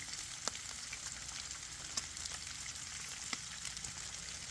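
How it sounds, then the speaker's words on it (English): Corn-smoked bacon sizzles and crackles steadily in a pan, a continuous hiss with occasional sharp pops, close and fairly quiet. "Listen to that bacon sizzle."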